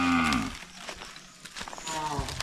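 Cattle or water buffalo lowing loudly and close while grazing on pasture, a long drawn-out moo at the start, then quieter rustling and another low call near the end.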